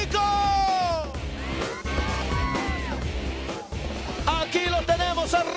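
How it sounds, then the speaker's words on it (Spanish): Studio audience at a televised competition show yelling and cheering, a loud continuous crowd roar with whoops and shouts rising and falling throughout. "¡El grito del público!"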